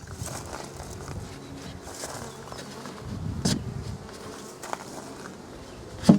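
Honeybees in an opened Flow Hive, the Monty hive, make a soft continuous buzz with faint rustles and a few sharp knocks and clicks from handling nearby.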